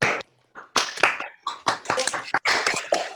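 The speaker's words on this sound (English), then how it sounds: "I'm seeing some applause" Scattered clapping from an online audience after a concert, heard as irregular bursts of hand claps picked up through unmuted microphones, with brief silent gaps between bursts.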